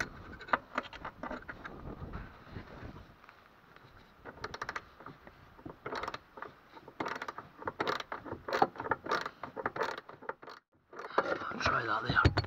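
Close metallic scraping, ratcheting and creaking as a steering column bolt is worked loose on a Classic Mini, in irregular bursts separated by quiet pauses.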